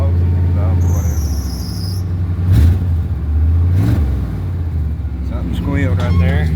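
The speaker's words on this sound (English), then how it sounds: "Something squealed right there. I think it was just a belt settling off." A Chevy engine runs after a water pump job, revving in short blips with a high belt squeal near the start; a person talks over the engine noise.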